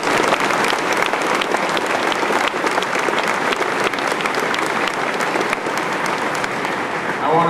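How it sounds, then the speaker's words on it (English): Sustained round of applause from a school auditorium audience, dense continuous clapping with some crowd noise, loud and steady for several seconds. "Come on, give a round of applause."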